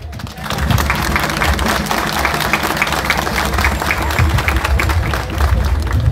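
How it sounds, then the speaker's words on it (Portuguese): Loud, sustained applause from a crowd at a Yemanjá religious festival honoring Mãe Maria, dense clapping throughout with some crowd voices mixed in. "A Mãe Maria merece esse aplauso"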